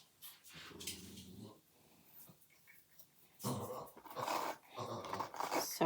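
A dog pants and breathes in short, irregular bursts close to an indoor microphone, quiet at first and then louder and quicker toward the end.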